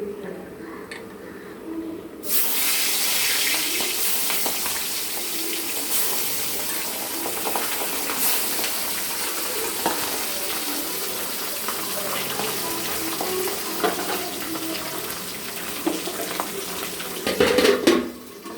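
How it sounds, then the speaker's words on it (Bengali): Pabda fish frying in oil in a pan, a loud steady sizzle that switches on after a couple of seconds and holds, ending with a few clinks of utensils. "এইভাবে সবগুলো মাছ এক এক করে ভেজে তুলে নেব"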